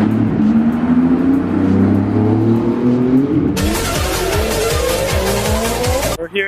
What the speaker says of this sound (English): It's a Porsche.